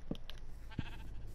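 A small sheep bleats in a Minecraft game, two short, thin bleats close together, fairly faint over a soft background hum.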